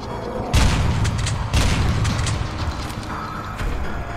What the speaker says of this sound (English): This OED beacon is like a cannon from above that can do a lot of damage